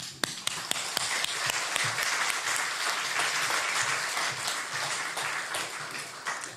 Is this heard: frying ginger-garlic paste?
no